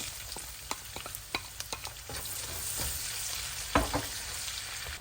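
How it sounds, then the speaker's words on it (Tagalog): Garlic and onion sautéing in a pan for pancit guisado, a steady close sizzle broken by sharp clicks and knocks of a utensil stirring against the pan, with no talking. "Igigisa naman natin ang ating mga gulay, mga kaputrip. Lagyan natin ang ating bawang. Yan, sibuyas."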